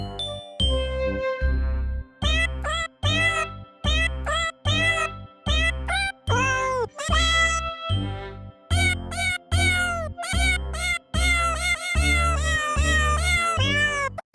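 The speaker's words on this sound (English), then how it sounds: "Buttons the Cat has also sent in this holiday video card for you all to enjoy." A cat meows repeatedly in a holiday video card, a long string of close, loud, tonal meows of varied pitch and length separated by short pauses, with a faint tinkling in the background.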